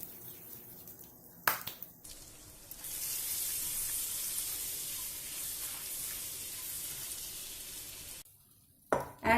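Butter sizzling in a hot pan with a pinch of garam masala and dried fenugreek (kasuri methi), a steady close hiss that swells after a couple of seconds, with brief clatters at the start and end.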